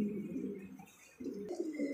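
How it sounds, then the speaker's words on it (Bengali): A pair of silver Lahori pigeons coo softly up close, low throaty rolling calls repeating in short phrases with brief pauses, quiet and alone with no talk. "এটাও দেখার মধ্যে একজোড়া লাহোরি কবুতর।"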